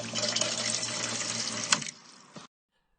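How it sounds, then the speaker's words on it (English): Water running from a bench-mounted tap fed by an electric pump, a steady close splashing stream for about two seconds that tapers and cuts off abruptly into silence. "I've got a tap here that I'm going to mount into the bench here, which will be electric pump,"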